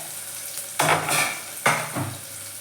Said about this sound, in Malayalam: സവാള അതിലേക്ക് ഇട്ടു ഇനി ഒന്ന് വഴണ്ട് വരട്ടെ